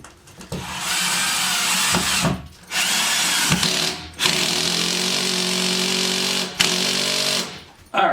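Impact wrench driving a bolt through a TV wall mount bracket into a wall stud, heard as several loud sustained buzzing bursts with short pauses between them.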